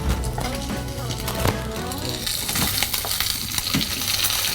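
Coconut and curry leaves frying in a pan for Chettinad chicken gravy, with a loud, continuous close-up sizzle and crackle and occasional stirring scrapes.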